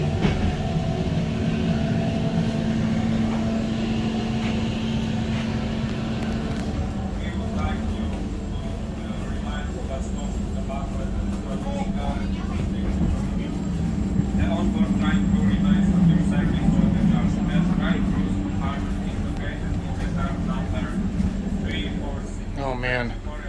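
Rumbling from inside a passenger train riding into Krakow, Poland, a continuous low roar with rattling and faint rhythmic clatter, heard close and steady throughout, with a voice talking over it.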